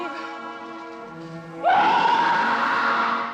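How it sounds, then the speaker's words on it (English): An actress's real scream recorded for a werewolf horror film in place of a dubbed effect: a loud, sustained high scream erupts suddenly after a low harmonic moaning or groaning voice, lasting to the end. "That's my real scream."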